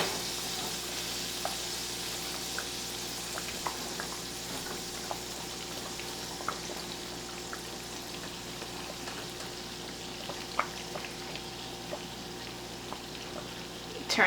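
Meatballs simmering in hot spaghetti sauce on a stovetop, a soft steady bubbling sizzle with scattered small pops and clicks, faint and continuous under a low background hum.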